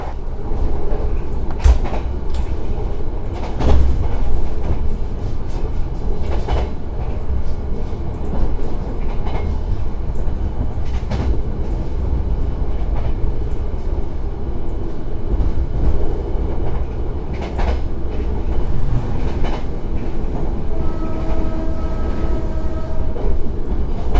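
An Argo Merbabu passenger train on the Jakarta–Semarang route runs along the rails, a loud continuous rumble with repeated clacks and knocks, and a faint tonal whine near the end.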